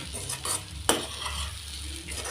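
Chili powder being stirred into a carrot fry in a pan, with a soft, steady scraping and sizzle and one sharp utensil clink near the pan.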